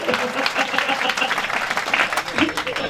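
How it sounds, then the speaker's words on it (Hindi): An audience at a village temple consecration festival breaks into loud applause, a dense, sustained roar of clapping that stays strong throughout, with voices mixed in. "जोरदार तालियां बजा।"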